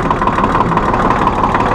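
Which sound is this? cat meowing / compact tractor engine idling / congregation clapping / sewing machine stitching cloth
compact tractor engine idling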